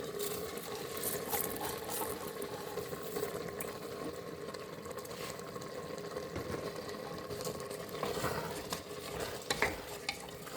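Ordinary non-basmati rice being stirred in a pan, a steady soft scraping and sizzling that continues without a break at low volume, with no talk.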